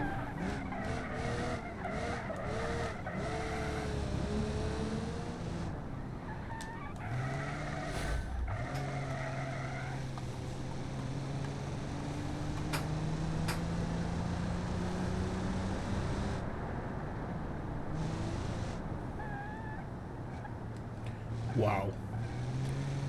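Race cars in the BeamNG driving game, engines droning and tires squealing through a long stretch, with a steady rising engine tone and a brief skid near the end, while someone talks over much of it.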